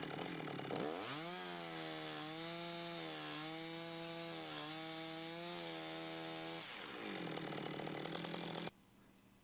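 A chainsaw cuts a kerf into a log at a scribed line, engine whining steadily and pitch dipping as the chain bites into the wood, loud and close for several seconds before revving free and cutting off.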